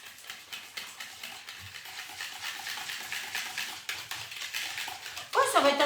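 A spoon works a crumble mixture for a salmon and tarragon crumble in a bowl, giving repeated light scraping and clinking strokes that grow busier toward the end, while someone talks over them.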